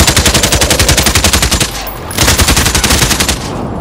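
Sustained automatic gunfire in Call of Duty: Modern Warfare, a rapid, loud, even rhythm of shots that breaks briefly, then resumes in another burst before easing off, with no talking.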